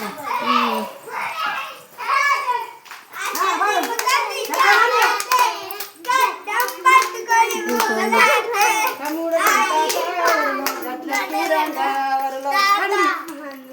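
Children singing together while clapping their hands in a loose rhythm, the claps mixed under their lively high voices throughout.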